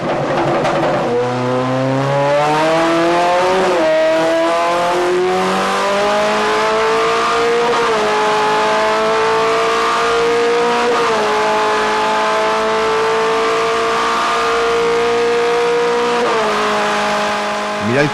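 Toyota TS020 V8 race engine running on a test bench, a loud continuous engine roar with rising and falling revs, sustained and close throughout.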